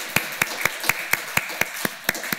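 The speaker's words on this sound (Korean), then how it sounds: "우리 3월 생일을 맞이한 우리 교우들 한번 박수로 축하해 주시면 고맙겠습니다." Several people clap in a sparse, evenly spaced rhythm of about ten sharp claps, moderately near and fairly quiet, as a church congregation applauds members celebrating March birthdays during a Lent Sunday service.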